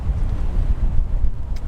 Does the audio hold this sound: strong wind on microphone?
yes